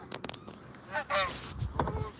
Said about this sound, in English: we got some geese coming in